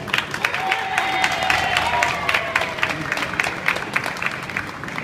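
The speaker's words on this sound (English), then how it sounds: "They'll give you a massive round of applause." An audience at a street show in Covent Garden, London, gives a big round of applause, steady dense clapping with some cheering, loud and continuous.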